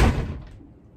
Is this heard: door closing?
yes